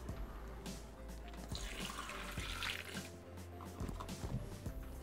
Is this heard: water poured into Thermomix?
yes